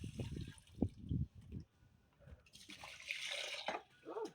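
Water runs and splashes as food is washed in a home kitchen while a meal is being prepared. The flow is faint and close, broken by softer handling noises.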